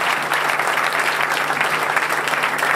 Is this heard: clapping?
yes